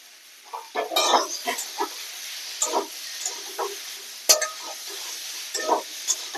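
Pre-fried vegetable stalks added to a pan and stirred, with soft sizzling and repeated scraping, clattering stirs in short irregular bursts, close and moderately loud.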